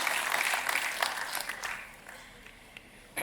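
A conference audience at an insurance and healthcare panel gives a brief round of applause that fades out quickly, leaving quiet room tone with a few scattered claps.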